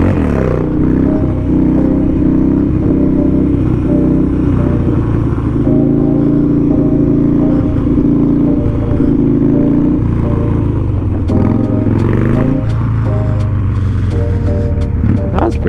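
Motorcycle engine revving hard during a wheelie, a loud, steady engine drone with rising and falling pitch that dips briefly near the end, with talk underneath.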